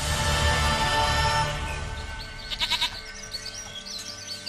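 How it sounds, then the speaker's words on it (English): A goat in the video game Witcher 3 bleats several times in quick wavering calls over steady ambient background noise. "Goat of mine, dearest, sweetest goat."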